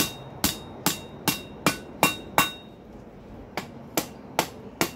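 Hammer blows on hot metal bent over an anvil edge to roll a pintle hinge, about a dozen sharp ringing strikes in a steady rhythm with a short pause midway, close and loud.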